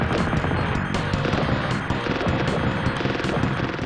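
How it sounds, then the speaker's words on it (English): Rapid gunfire and explosion effects from the SNES shooter Strike Gunner, a loud, dense barrage of shots and blasts with no pauses. "But what I really like are the awesome sound effects and explosions, possibly some of the best in a 16-bit shooter."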